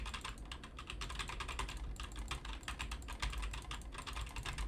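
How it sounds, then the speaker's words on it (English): Fast, repetitive hammering of the WASD keys on a semi-mechanical keyboard, a dense stream of close, crisp clicks with scarcely a break across several seconds. "Just spamming WASD keys."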